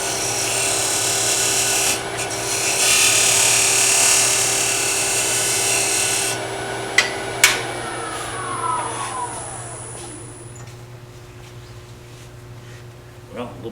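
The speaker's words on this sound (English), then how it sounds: "I think we'll use our skew chisel to finish this off" A wood lathe spins a small turned piece for a miniature nesting box as a skew chisel finishes the surface: a bright, loud cutting hiss with a whining motor that fades as the lathe slows, with someone talking.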